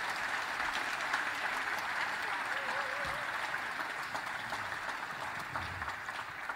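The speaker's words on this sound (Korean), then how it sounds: "크게 박수 한번 부탁드립니다" Applause from an audience at the National Assembly's 77th Constitution Day ceremony, a broad, steady crowd clapping that runs without a break and stays even in loudness from start to finish.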